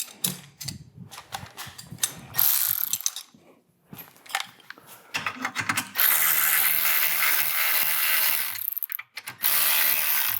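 A 13 mm ratchet wrench clicks in bursts of rapid, close pawl ratcheting while tightening a sway bar bolt on an Audi D4 A8/S8, with short pauses between strokes.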